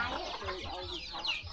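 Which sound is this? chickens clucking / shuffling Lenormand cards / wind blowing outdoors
chickens clucking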